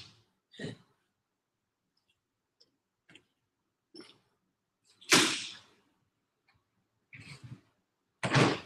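A door is popped open indoors in a series of sparse clicks, knocks and scrapes separated by quiet gaps, with a couple of louder bursts of handling noise; no voices.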